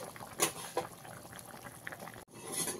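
A pot of chicken stew with vegetables and potatoes boils in water, giving a soft, steady bubbling and popping with a few louder blips, quiet and close.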